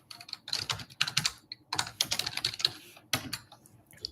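Someone types on a computer keyboard to confirm deleting an Amazon S3 bucket: quick, close clicking keystrokes in uneven bursts with short pauses between them, and no talking.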